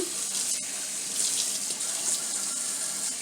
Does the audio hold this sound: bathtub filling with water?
yes